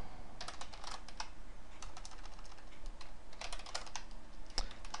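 Typing on a gaming computer keyboard, rapid clustered key clicks in bursts with a short pause mid-way, close and crisp over a quiet background.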